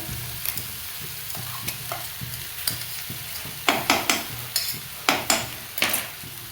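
Spices and turmeric fry in a pan while a spoon stirs and scrapes, making repeated clinking strokes over a steady close sizzle. The strokes come in an irregular rhythm and grow louder toward the end.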